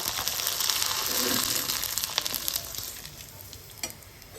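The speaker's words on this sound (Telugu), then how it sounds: "ఇప్పుడైతే నేను నూనెలు అయితే వేయించి చూపిస్తాను" Rava papads (vadiyalu) frying in hot oil, with a close, continuous crackling sizzle that is loudest at the start and gradually fades, and no talking.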